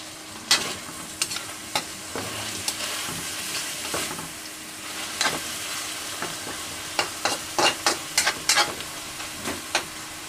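Chicken for tinola sautés in a pan while being stirred, with a constant sizzle and sharp scraping clinks from the utensil that come faster toward the end, all close up and without talk.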